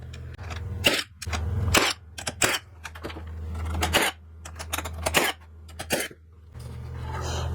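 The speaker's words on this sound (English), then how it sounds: "I'm gonna use my nailer." A nail gun driving nails into 2x4 wood while a Christmas tree is assembled on a jig, with loud, close pneumatic bangs fired one after another over a steady low compressor hum.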